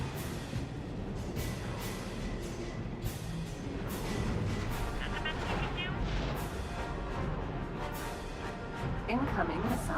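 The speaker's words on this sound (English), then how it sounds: "Oh, that is a lot of missiles." A missile barrage in the space combat game X4: Star Wars sends repeated booming impacts and explosions over a dense, rumbling battle din, with someone talking over the action throughout.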